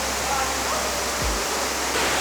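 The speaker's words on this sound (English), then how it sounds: "here we see the first waterfall in the cave" Steady broadband rushing of a waterfall inside a cave in South Korea, echoing in the enclosed space, continuous and fairly loud with a brief low thump partway through.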